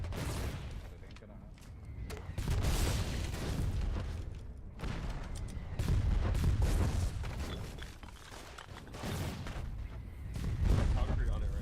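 Heavy artillery barrage in the online war game Foxhole: repeated deep booms and explosions roll in waves, some near and loud, others distant, over a steady low rumble with faint voices underneath.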